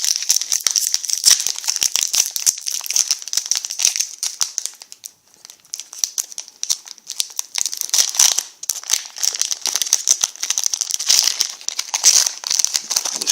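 Someone opens a Pokémon Phantom Forces booster pack, and its wrapper makes close, continuous crinkling and crackling for about thirteen seconds with brief pauses and no talking.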